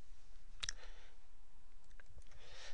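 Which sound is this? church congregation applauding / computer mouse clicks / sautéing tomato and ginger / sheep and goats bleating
computer mouse clicks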